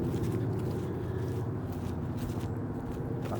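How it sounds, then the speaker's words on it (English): CSX freight locomotives on a double DPU rock train labor uphill, giving off a continuous low, heavy rumble that stays steady and moderately distant throughout. "Listen to those locomotives working."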